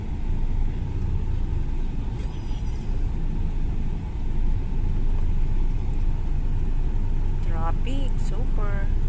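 A car sits in heavy traffic, its engine rumbling low and steady, with a power steering fault, while passing vehicles hum around it and voices talk inside over the drone.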